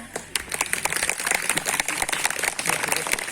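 An audience claps after a children's welcome poem at a summer Quran course closing programme at Haymaçınar Yayla Mosque. The applause is a steady, fairly close patter of many hands that runs the whole way through, with some voices mixed in.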